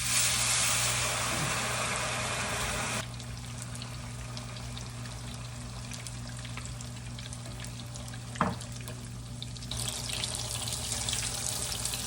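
Broth is poured into a hot cooking pan where meat has been toasting, giving a loud sizzling, bubbling rush that eases after a few seconds into a quieter steady simmer, with a brief clink midway.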